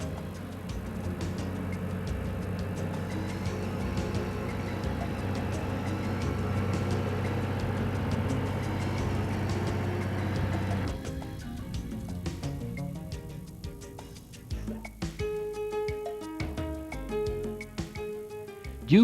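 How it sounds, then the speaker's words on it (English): A heavy transport combination riding on 128 tires, hauling a 220-ton reactor along a road to a refinery, gives a steady low engine drone that later thins into quieter rumbling with scattered clicks and knocks. "Slowly, the transport combination, supported by its 128 tires, moves along the route to the refinery"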